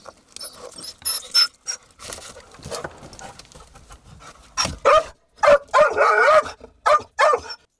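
A search and rescue dog barks in short repeated bursts, sharp and fairly close, during training to find people under rubble, with clinking and shuffling sounds in between.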